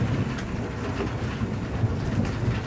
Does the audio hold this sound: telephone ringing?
no